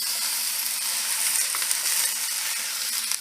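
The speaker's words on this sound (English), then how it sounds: "So I'm just going to go ahead and sear this." Pork carnitas sear in a hot pan, giving a steady, dense sizzle with faint crackles and scraping, close and continuous, with no voices over it.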